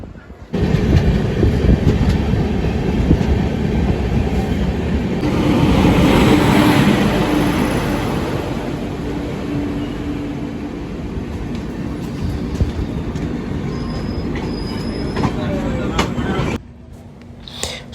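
A Gitanjali Express train crosses the Nagpur diamond crossing, heard as a loud, steady rolling rumble with rattling wheels. Soft clicks come through near the end before the noise cuts off sharply, and a voice can be heard faintly underneath.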